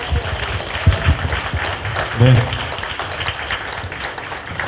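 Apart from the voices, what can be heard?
audience applause at a book concert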